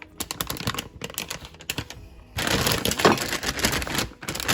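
A knife chops rinsed, unpeeled vegetables in half on a cutting board for a Japanese-style chicken curry, making quick, close, crisp tapping cuts in bursts, followed by a denser stretch of rapid chopping.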